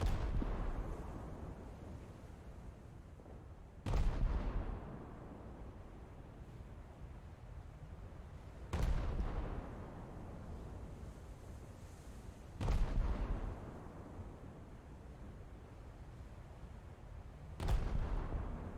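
Naval shells striking the battleship Scharnhorst in a World War II naval combat video game land as four heavy booming impacts spaced several seconds apart, each fading into a low rumbling background.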